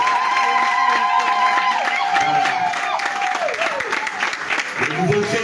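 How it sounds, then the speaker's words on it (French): A church congregation at a Mass for adult baptisms applauds the newly baptized, steady loud clapping from a full crowd lasting throughout, with a sustained organ or sung tone underneath early on and murmuring voices mixed in. "je voudrais qu'on puisse encore applaudir pour ces nouveaux baptisés"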